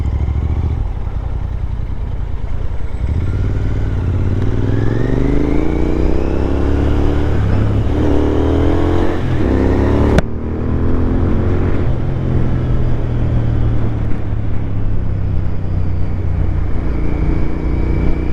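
A cafe racer motorcycle engine drones loudly while riding and climbs through gears with rising revs, then drops briefly at a shift before pulling steadily again.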